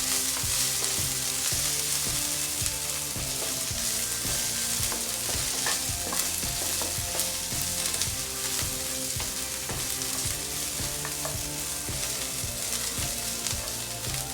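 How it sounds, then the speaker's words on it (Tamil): Vegetables including tomatoes and coriander sizzle and crackle in hot oil in a pan for okra chutney, a steady frying hiss with soft stirring clatter throughout, no talking. "எல்லாமே நல்லா வதங்கிடுச்சு"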